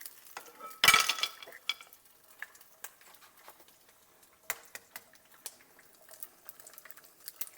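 Two eggs cooking in a pan are stirred with scraping, tapping utensil strokes and a loud clatter near the start, then scattered light clicks and scrapes over faint sizzling, close up, with no talking.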